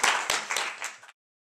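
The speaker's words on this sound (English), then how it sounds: "Please a warm hand of applause for Hady Zaccak, the director of History Les" A brief burst of audience applause at a film Q&A for a documentary director. Scattered, fairly close claps fade out after about a second, followed by silence.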